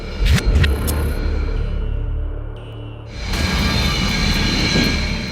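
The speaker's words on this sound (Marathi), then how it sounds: "भारतीय विमानांनी नियंत्रण रेषा भेदली, शत्रूच्या रडारला चकवा दिला" Indian military aircraft in flight, a loud broadband jet roar that swells, dips briefly around the middle, then returns strongly and steadily, with no speech over it.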